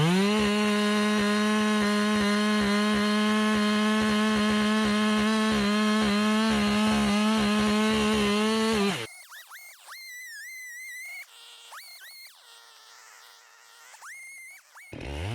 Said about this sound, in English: This is my Husqvarna 390 XP chainsaw.